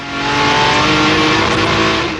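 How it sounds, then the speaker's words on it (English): A Jaguar D-Type race car accelerates hard out of a chicane, engine roaring loud and close at full throttle, a sustained, steady snarl throughout. "Tuck the car right in and absolutely floor it."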